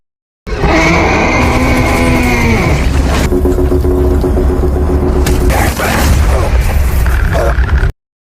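A bomb explodes aboard an aircraft in a film: a loud, sustained blast and roaring rumble with scraping debris, fading and then swelling again before cutting off.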